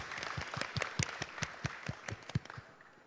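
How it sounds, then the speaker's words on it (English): An audience at a Python conference opening claps for sponsors, sounding as sparse, distinct individual claps in an irregular rhythm, fairly close and moderately quiet. "please a big applause for our sponsors."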